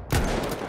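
Gunfire in a World War I shooter set at Verdun: a loud burst of shots rings out right after a brief quiet start, then a dense, sustained rattle of fire with no talk over it.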